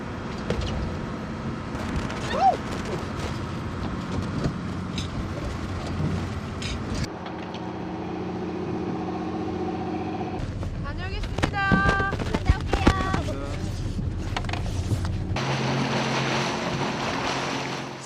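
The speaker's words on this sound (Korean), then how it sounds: "여전히 높은 파도에 배를 타는 것조차 쉽지 않다" Rough water and wind surround a hospital ship in high seas, with sloshing waves, a running motor, and occasional thumps and clatter as the hull rides the swell.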